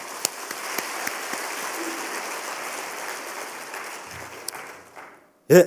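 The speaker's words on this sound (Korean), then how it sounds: "다시 한번 감사의 박수 부탁드리겠습니다." A church congregation at a Wednesday worship service claps in thanks for a visiting pastor, a steady wash of applause lasting several seconds before it fades out and stops.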